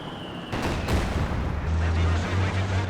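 A Katyusha rocket barrage fires in the World War II strategy game Company of Heroes 2, with a rumbling roar of launches and blasts that builds and holds loud and dense over a deep low drone.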